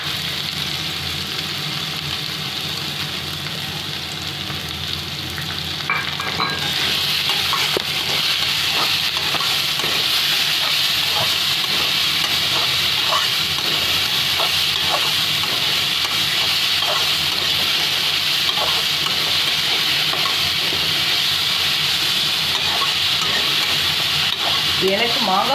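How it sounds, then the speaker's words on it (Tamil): Grated raw mango stirred into hot oil with curry leaves in a frying pan for mango rice, giving a steady loud sizzle with scraping stir strokes throughout, rising after a few seconds. "கறிவேப்பிலை எல்லாம் போட்டு வணங்கின பிறகு துருவி வச்சிருக்கிற மாங்காய் ஆட் பண்ணிக்கிறேன்."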